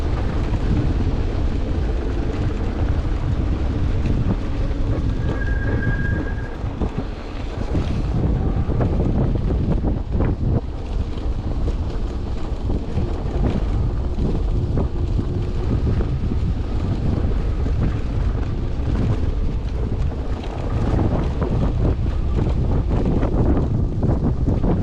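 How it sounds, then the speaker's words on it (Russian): Strong wind roars into the microphone during a snowstorm on an electric vehicle ride, a constant loud rumbling buffet with brief dips and no speech. "Ветер сегодня сильный."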